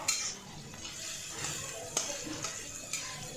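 Capsicum and other vegetables for egg fried rice fry with a soft, steady sizzle in a wok while being stirred, with occasional light knocks of the utensil against the metal; fairly quiet and close.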